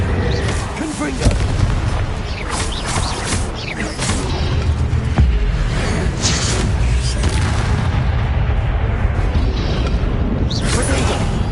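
Repeated booming blasts from a Confringo fire curse in Hogwarts Legacy, loud and dense, layered with clattering impacts and game effects running throughout without pause.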